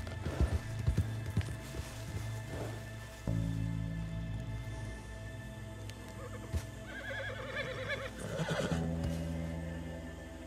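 Horse neighs and whinnies in Red Dead Redemption 2, with clip-clop hoofbeats of galloping, against steady game music and ambience; the whinnies stand out loud and close, with no talk.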